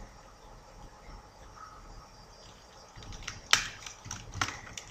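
Clicks of a computer keyboard being typed on, a short burst of sharp keystrokes near the end that rises over quiet background hiss.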